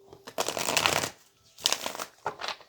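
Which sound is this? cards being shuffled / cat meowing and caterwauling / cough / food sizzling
cards being shuffled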